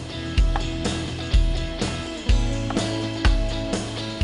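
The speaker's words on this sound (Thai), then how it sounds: "ผมหั่นอย่างนี้นะครับท่านผู้ชมครับ หั่น สลับไป สลับมาแบบนี้" A knife cuts a bell pepper on a board, making regular, fairly close thuds about every half second to second, with no voices.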